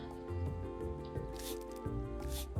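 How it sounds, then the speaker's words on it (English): In the Roots of Pacha video game, a water skin is filled at a well, giving soft squishing and dripping liquid sounds in short bursts over light background music. "to fill my water skin"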